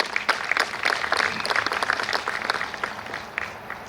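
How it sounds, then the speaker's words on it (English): An audience at Norco's 2021 State of the City address, given by Mayor Kevin Bash, breaks into steady, dense applause that holds for several seconds before thinning toward the end, with little voice underneath. "give him applause"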